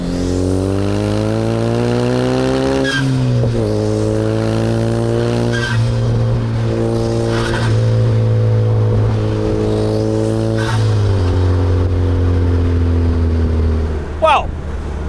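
A Zenos E10 R sports car drives along a road, its engine note rising and falling through gear changes in a loud, continuous drone, close and steady for the whole stretch.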